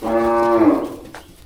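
A cow at a cattle and buffalo market in Wang Prachop, Tak, lets out a single loud, close moo lasting about a second, tapering off into quiet with no one talking.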